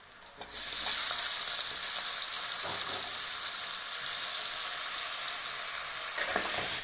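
Garlic fries in a pan for a Tamil manathakkali keerai kootu, giving a close, steady hiss and sizzle that starts abruptly and continues evenly throughout.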